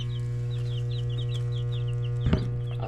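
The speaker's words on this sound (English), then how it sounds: "we got us some chicks" Fifteen young chicks of mixed breeds cheep and peep in a coop, a steady scatter of high chirps over a constant low mechanical hum, with one brief louder knock near the end.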